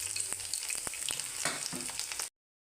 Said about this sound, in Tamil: கொஞ்சமாக கடுகு பொரிஞ்சதும் பூண்டு போடுங்க